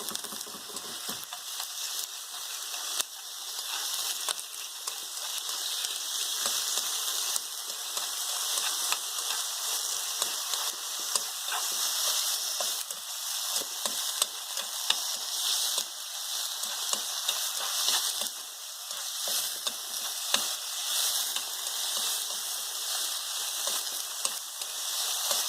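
Chicken pieces sizzle and fry steadily in a hot pan while being stirred, a dense continuous crackle with faint scraping, close and fairly loud with no talking.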